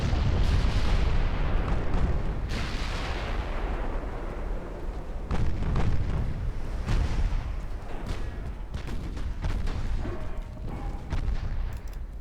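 Tanks explode and fire in a DIP v2 campaign battle game, sending heavy booms and blasts in repeated bursts over a rumbling battlefield background.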